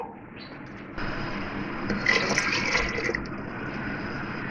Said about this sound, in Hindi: 4 गिलास पानी डालूँगी इसमें मैं।